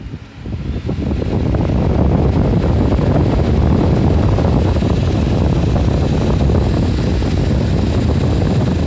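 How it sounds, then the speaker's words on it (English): Air conditioning in a 2014 Ford Focus blows hard, a steady loud broadband rush of air that swells up in the first second and then holds constant, with no talking. "AC blowing cold"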